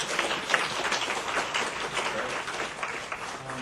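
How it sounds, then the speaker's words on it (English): A short burst of applause from a small group, dense and steady clapping at moderate volume. "I think we should give her a round of applause."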